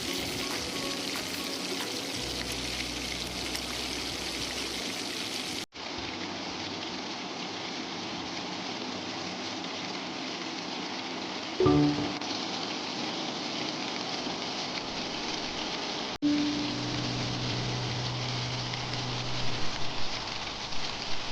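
Ivy gourd (dondakaya) slices frying in a pan, a steady rain-like sizzle broken by a couple of abrupt cuts, with a brief metallic clink of stirring partway through.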